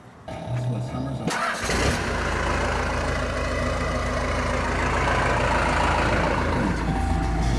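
A Cummins diesel engine in a Bronco cranks and catches, then settles into a loud, steady rumbling idle close by through a wrapped exhaust, with a voice briefly at the start.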